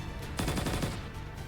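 A sharp burst of rapid mercenary gunfire from the action game Punishing: Gray Raven, half a dozen tight cracks in quick succession, loud and close over a low droning background.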